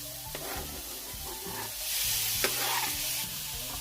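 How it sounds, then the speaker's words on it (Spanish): Swiss chard sautéing in butter in a pan, a steady close sizzle with scraping stir strokes recurring throughout, growing louder midway. "Ahora le voy a agregar un pedacito de manteca. Y ahora acá agregamos la acelga"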